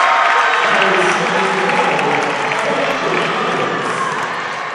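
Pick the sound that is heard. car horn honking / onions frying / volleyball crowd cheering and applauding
volleyball crowd cheering and applauding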